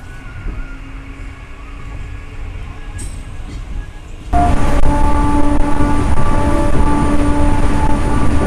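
Passenger train on the Trichy to Bangalore route rumbles along at a steady pace, the rolling noise swelling suddenly louder midway and continuing with a constant droning hum.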